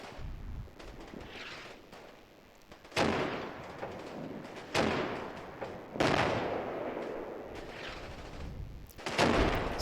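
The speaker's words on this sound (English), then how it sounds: "Artillery falling in the background again." Artillery fire in a war strategy video game, falling as repeated booming blasts at intervals with rumbling decay, steady background bombardment with no talk.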